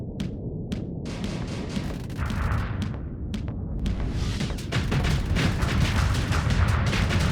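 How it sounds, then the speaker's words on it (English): Explosions rumble through a space battle in the game Starsector, a dense, continuous barrage of booming low blasts and crackling impacts that keeps building toward the end, with no voices. "Oh, she took damage from that explosion."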